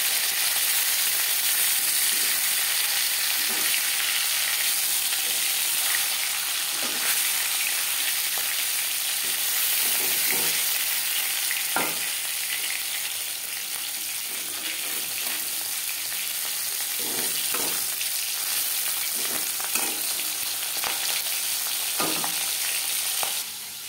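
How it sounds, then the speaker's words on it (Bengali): Pieces of katla fish fry in hot oil for a Bengali fish curry, giving a constant close sizzle broken by occasional spatula scrapes and clicks. "মাছ একটা সাইড ভাজা হয়ে গেলে অপর সাইডটা উল্টে দেবো।"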